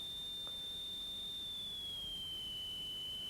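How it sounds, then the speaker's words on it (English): A pure sine wave test tone from electronics lab equipment, a single steady whistle that holds its pitch and then steps gradually lower, sounding alone over faint background hiss. "if I vary the frequency of this sine wave, that line moves, first decreasing frequency, and then"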